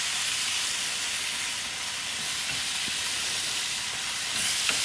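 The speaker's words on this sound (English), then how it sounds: "A sizzle." Steady, dense sizzling hiss of marinated beef short ribs searing on a hot grill, continuous and fairly loud with no voices.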